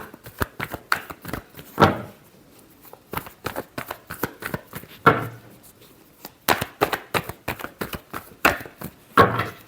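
Tarot cards shuffled by hand in a series of crisp riffling bursts and sharp slaps, close and loud, irregular in rhythm with short pauses between flurries.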